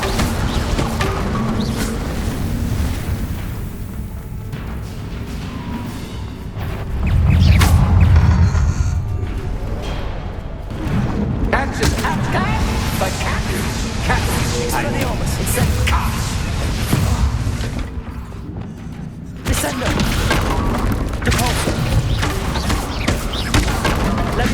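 An Incendio fire spell is cast in Hogwarts Legacy on PS5, with a loud whooshing burst flaring for a couple of seconds amid continuous game ambience and crashing effects.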